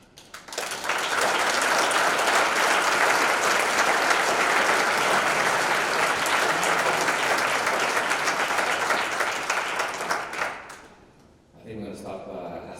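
An audience at a public conversation with the Mayor of Chicago breaks into loud, sustained applause for about ten seconds, which then fades before a voice begins speaking.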